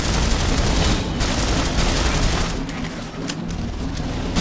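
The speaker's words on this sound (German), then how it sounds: "Ich schieß gerade auf einen Big Boy" Sustained rapid gunfire from the video game The Saboteur, a dense continuous rattle of shots with booming impacts, loud and unbroken for the whole span.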